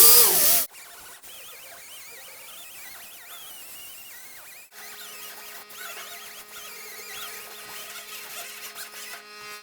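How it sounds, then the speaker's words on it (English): Die grinder fitted with 40 grit sanding a door handle while shaving a slider door, a steady, moderately loud high-pitched whine running continuously after an opening burst, with no talking. "now I'm just going to use a little 40 grit on my die grinder"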